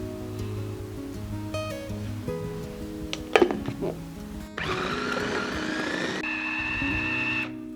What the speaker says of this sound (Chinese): 用搅拌机搅打芋泥馅